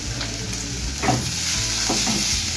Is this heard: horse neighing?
no